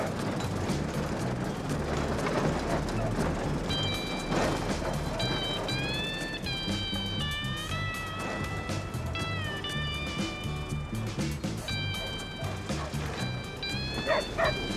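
A dog barks loudly and repeatedly over the steady rumble of a running machine on a long levee between Colombia's largest river and the Caribbean Sea, with whistling tones and faint voices mixed into the dense noise.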